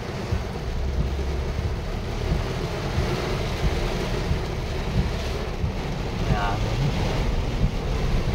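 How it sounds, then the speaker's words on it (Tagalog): Strong wind roars steadily across the microphone, a dense rushing noise that holds loud for the whole stretch with gusty swells, with no clear talk over it. "Ayan, lumalakas ng hangin."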